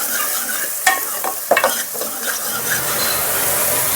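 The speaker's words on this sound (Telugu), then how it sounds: "Onions fry అవ్వనివ్వాలండి." Onions frying in a pan while cooking mutton curry, a steady broadband sizzle with a few sharp spatula scrapes and stirring knocks near the start, then an even crackle continuing alone.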